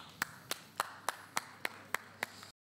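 Nine evenly spaced sharp claps ring out alone at a steady rhythm, a sparse, fairly quiet round of applause for a guest named Doctor Girish on a Marathi stage comedy show.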